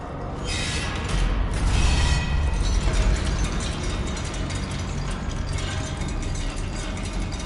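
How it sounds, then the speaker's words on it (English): Elevator ride in DOOM: The Dark Ages, a steady grinding mechanical rumble with ratcheting gear clatter, loud and continuous, with a brief heavier surge early on. "let's go ahead and ride the elevator"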